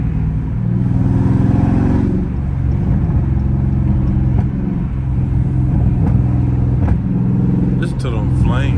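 A Dodge Scat Pack muscle car engine rumbles and revs continuously in traffic, with sharp exhaust pops and crackles near the end, and someone talking over it.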